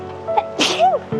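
A single sharp human sneeze bursts out close by on a mountain lake hike in Rocky Mountain National Park, set against quiet outdoor background.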